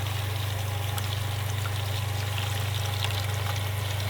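Steady rush of hot water running from a kitchen tap, continuous and fairly loud with a low hum underneath, no voices.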